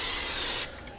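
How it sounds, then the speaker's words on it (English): Spray oil hisses in a single steady burst into a large plastic bowl, then cuts off abruptly, leaving a faint room tail. "I'm going to hit it with some spray oil"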